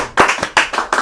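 A small group claps for a speaker, a few sharp close hand claps in an uneven rhythm over about a second.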